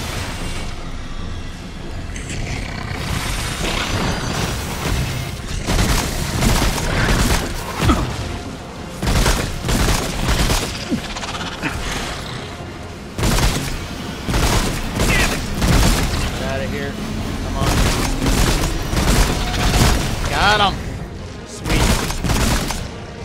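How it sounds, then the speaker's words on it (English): Gunfire and explosions from the video game Remnant: From the Ashes, with loud bursts of shots, booms and crashes coming in dense clusters separated by brief lulls, fairly close and continuous. "I have no idea what you're shooting at"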